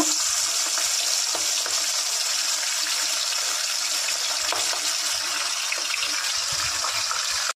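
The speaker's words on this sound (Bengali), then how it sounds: "ইলিশ মাছের মাথা নুন হলুদ মাখিয়ে নিলাম। এবার ভেজে নেব।" Hilsa fish head, rubbed with salt and turmeric, frying in hot oil with a steady, loud, dense sizzle and crackle that continues without a break, with no voices over it.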